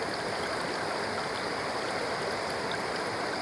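A stream below a waterfall in Scotland rushes and bubbles in a steady, dense wash of water noise, close and continuous, with no voices.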